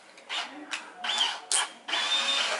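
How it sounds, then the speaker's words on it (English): A handheld power drill with a right-angle attachment for drilling around corners whirs in several short bursts of varying length, close and moderately loud, separated by brief pauses with faint room noise. "That's for drilling around corners."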